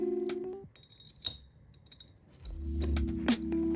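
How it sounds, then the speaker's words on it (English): Metal buckles on Sterling Pacific aluminum luggage snap shut with a few crisp, close clicks and light metallic clinks, set between short stretches of faint handling noise. "They are metal buckles and have this satisfying clicking sound."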